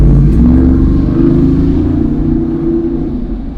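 A Jeep Wrangler 392 V8 rumbles loud and close, its deep engine note swelling as it revs and then easing slightly, with no talking.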